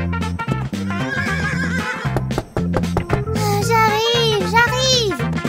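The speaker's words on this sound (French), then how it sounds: "Oh, un cheval." A horse neighs loudly and close by, several shrill whinnies rising and falling in pitch, with faint hoof clopping underneath.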